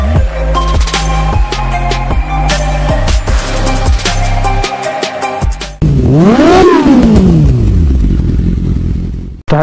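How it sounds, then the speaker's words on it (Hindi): Several motorcycle engines cold start, rumbling and revving loudly, with a sharp rising and falling rev sweep near the end over steady idling. "सारी की सारी बाइक यहाँ पे कोल्ड स्टार्ट हो रही है"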